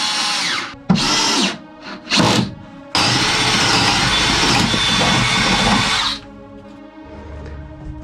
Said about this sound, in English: It's gonna be a drill and then maybe a sand.